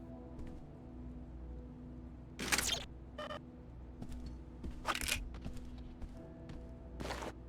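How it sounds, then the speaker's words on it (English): Crunching impacts in the Deus Ex: Invisible War video game, a few short gritty crunches at irregular intervals over a low steady hum, fairly quiet and close. "They are very good crunching sounds there."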